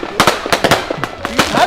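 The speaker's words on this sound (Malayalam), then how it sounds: "ആരാണ് ഈ സമയത്ത് പടക്കം പൊട്ടിക്കുന്നത്?" A quick string of firecrackers bursts close by, about a dozen sharp, loud cracks packed into under two seconds, with a voice heard between them.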